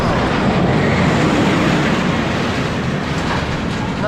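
Loud, continuous rumble and rattle of a roller coaster ride at Flamingo Land fill the whole stretch with dense clattering track noise close by. No one speaks.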